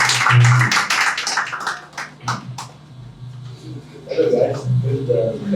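Brief clapping rises amid a crowd at a wedding celebration, with people talking and cheering over it, short-lived rather than sustained applause.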